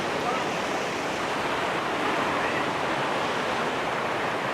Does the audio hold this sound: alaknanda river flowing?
yes